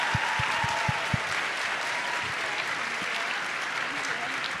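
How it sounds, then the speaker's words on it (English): Audience applause for a panel at a school summer program closing ceremony, a steady dense wash of clapping across the whole stretch, with a few sharp nearby claps at the start. "Can we get one more round of applause for our panelists?"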